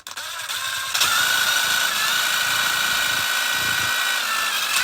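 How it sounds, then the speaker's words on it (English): An impact drill spins a position encoder on an industrial control test rig, starting with a click and then holding a loud, steady high-pitched motor whine with a mechanical rattle underneath. "I'll just spin this impact drill around"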